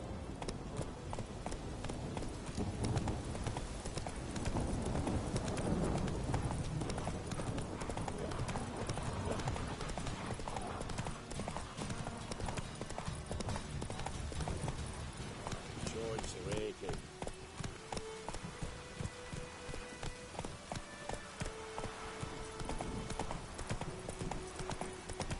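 Roach the horse galloping in The Witcher 3, a fast and steady clip-clop of hooves over loud game sound and a speaking voice.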